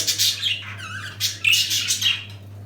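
Budgerigars in a roomy cage squawk and chatter in a quick run of harsh, bright calls, close and loud over a steady low hum.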